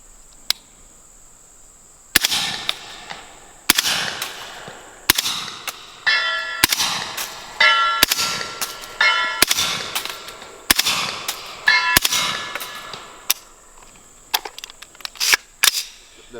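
Suppressed 300 Blackout rifle firing Hornady 190 grain subsonic rounds at a steel target, about a dozen sharp muffled reports at a steady pace, each followed by a ringing metallic ping from the steel, near and distinct.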